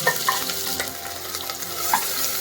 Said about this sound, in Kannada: ಎಣ್ಣೆ ಬಿಸಿ ಆಗಿದೆ ಇವಾಗ ಆನಿಯನ್ ಹಾಕುವ ಆನಿಯನ್ ಮತ್ತೆ ಚಿಲ್ಲಿ ಹಾಕುವ